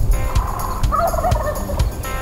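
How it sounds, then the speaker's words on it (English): Wild turkey gobbling on a ponderosa pine-covered mountainside in Wyoming, a couple of clear warbling gobbles rising out of steady outdoor background noise, moderately close and with no one talking. "running after gobbles on the ponderosa pine-covered mountainside"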